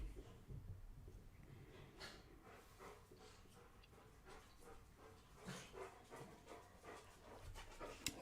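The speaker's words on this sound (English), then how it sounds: "Hear the puppies coming downstairs." Puppies pant and patter down a staircase, with soft breathy panting and faint scrabbling footfalls repeating throughout at moderate distance, no talking.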